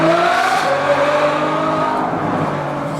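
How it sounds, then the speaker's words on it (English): A Ferrari F12 Berlinetta accelerates through a short underpass, its V12 exhaust rising in pitch through the gears and echoing off the walls, loud and close throughout. "And that was just a little underpass. Just wait till we get to the tunnels."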